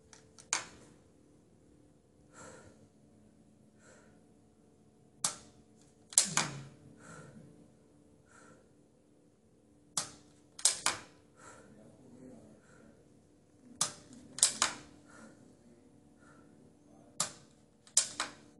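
Biathlon rifle shots fired at range targets outdoors during training, several sharp cracks spaced a few seconds apart, five in all with some clustered, each a crisp broadband report over quiet ambient background.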